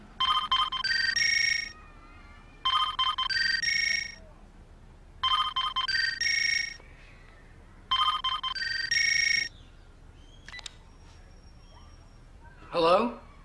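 A telephone rings unanswered, a bright electronic ringtone repeating in four evenly spaced double bursts, close and clear, followed by a quieter stretch and a brief voice near the end.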